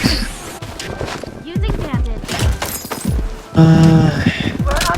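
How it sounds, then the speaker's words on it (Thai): Footsteps in the shooter game BloodStrike thud in a rough, regular rhythm alongside other sharp game noises, while someone talks over them. "ได้ยินเสียงตีนได้ยินเสียงเท้า"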